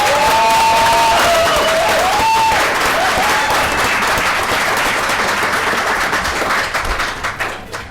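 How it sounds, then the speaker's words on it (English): Audience applause at a supportive housing panel event, a dense burst of clapping that holds steady and then thins out and fades, with a brief voice early on. "Please give a round of applause."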